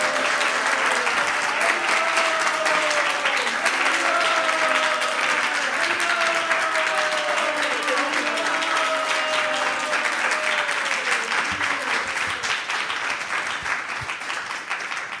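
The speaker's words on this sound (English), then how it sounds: "I know you want to clap." Sustained audience clapping at a temple gathering, a full, even roar of many hands that carries on for a long stretch, with faint tonal voices or singing drifting over it before it thins near the end.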